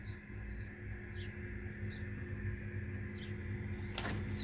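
Faint, distant bird chirps repeat at a steady pace over a constant low hum, with a brief rattling noise near the end.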